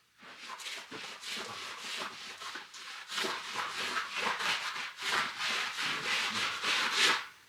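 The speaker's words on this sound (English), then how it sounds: "Now I start to clean the beams, the steel beams." Steel beams in a barn are scrubbed clean with rhythmic, close rubbing strokes, a brushy rasp repeating steadily and growing slightly stronger toward the end.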